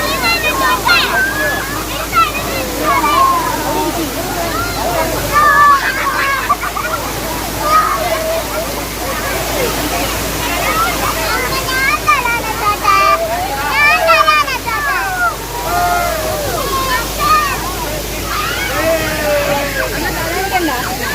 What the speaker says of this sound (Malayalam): കീഴാന്തൂർ വാട്ടർഫോൾസ് ആണ് നമ്മുടെ ഹോം സ്റ്റേയുടെ തൊട്ട് ചേർന്ന് തന്നെയുള്ള വഴിയുടെ അങ്ങ് ഇറങ്ങി വരുമ്പോൾ തന്നെയാണ് ഈ വാട്ടർഫോൾസ് ഇവിടെ ഉള്ളതിൽ